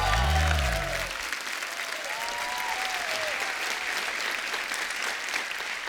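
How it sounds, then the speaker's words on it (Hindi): A television comedy show's studio audience breaks into loud, sustained applause. A brief low-pitched tone sounds at the very start, then a dense, even wash of clapping carries steadily through to the end. "जोरदार तालियों से स्वागत होना चाहिए।"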